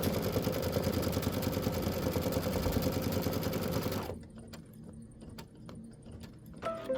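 A sewing machine stitches rapidly and steadily while quilting a sweetheart-themed bench pillow, then stops abruptly, leaving quiet handling clicks and light rustling nearby.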